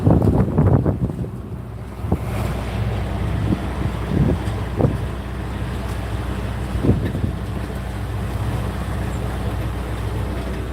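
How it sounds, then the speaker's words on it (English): Sailboat out at sea off Fiji, with steady wind roaring against the microphone, waves washing around the hull and a few louder gusts and knocks, no voices. "We're out here sailing in Fiji."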